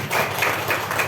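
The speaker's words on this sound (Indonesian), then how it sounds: "Kita beri tepuk tangan yang meriah." Applause from an audience welcoming a teacher to speak at a school event on positive culture in Pasuruan, East Java, a short steady wash of clapping with no talk.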